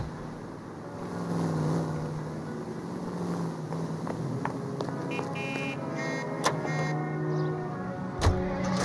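A car rolls along in the video game L.A. Noire, its engine giving a steady, even drone with a faint whine, and scattered light clicks and knocks sit on top.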